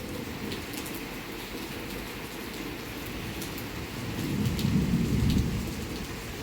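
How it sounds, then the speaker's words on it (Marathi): Steady rain pouring outside during a downpour, a continuous hiss with soft rumbles that swell louder near the end, no voices. "बाहेर मस्त असा पाऊस पडायला लागलेला आहे"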